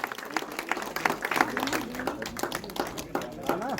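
An audience applauds to welcome a young playback singer at a public event for the Garhwali film Chakravyuh, with steady clapping and occasional voices over it, all at moderate loudness.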